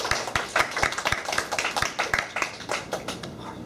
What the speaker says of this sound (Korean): 박수 한번 치는 거 좋지 않을까요?